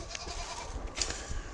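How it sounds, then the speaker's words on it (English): Boer goats in a livestock auction setting give a few faint bleats over a steady, noisy background murmur, with no clear speech. "if we go over here and show you guys the goats"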